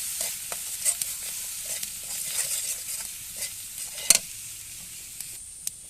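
Spices fry in a pan over a village clay stove for a snakehead fish and taro stolon dish, hissing steadily with close scraping stirs.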